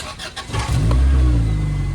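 A car engine cranks briefly and then catches during a jump start, settling into a loud, steady idle close by with no voices.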